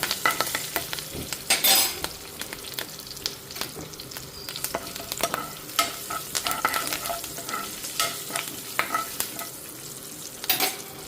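Tempering of cumin, mustard seeds, dried red chillies, asafoetida and curry leaves frying in oil in a pan, a soft sizzle punctuated by irregular crackles, pops and spoon scrapes, close and without voices.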